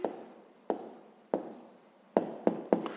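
A pen writes an answer by hand on paper, giving a handful of short scratchy strokes with brief pauses between them, close and quiet with no voices.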